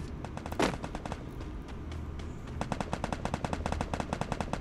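Gunfire in the Free Fire mobile battle royale game: an early single loud shot, then a long run of rapid, evenly spaced automatic bursts, crisp and fairly close, with no talking.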